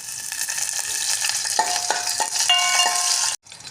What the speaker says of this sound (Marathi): तूप गरम झाले की त्यात खडे मसाले घालून घ्यायचे सगळे आणि एक हिरवी मिरची